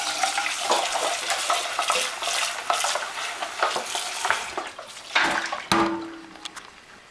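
Hot water being poured off simmered turkey wing bones in a pot, a steady broadband splashing and trickling with a few clanks near the end, fairly close and loud, no voices.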